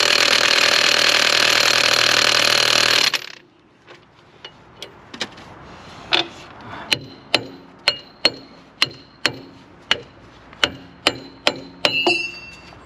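Hammer blows striking a chisel to drive out a stuck ABS sensor, about a dozen sharp metallic clanks at a steady, slightly quickening pace, close and loud, following a few seconds of broadband noise that stops abruptly.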